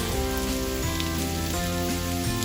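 Chopped vegetables added to caramelized onions and frying in a pan for a pasta dish, giving a steady, close, crackling sizzle like light rain, even and unbroken throughout.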